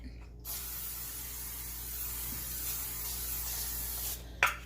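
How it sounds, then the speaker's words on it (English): A continuous hiss of aerosol cooking spray sprayed into a frying pan, lasting several seconds, close and steady, ending abruptly with a small clatter. "In the meantime, I'm going to be spraying it."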